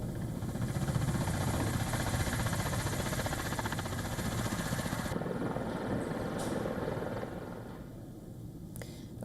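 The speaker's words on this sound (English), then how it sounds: "military helicopters providing fire support to assault groups" Military helicopters during the Zapad 2025 drills fly fire support for assault groups, a loud continuous rotor thrum and engine drone that fades slightly toward the end.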